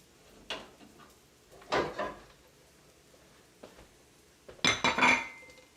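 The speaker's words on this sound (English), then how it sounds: "Scrape into a bowl and set it aside to cool." Cooked herbs, including rosemary, are scraped into a bowl in a home kitchen. Three short, quiet bursts of scraping and clinking of a utensil against dishware are separated by near silence.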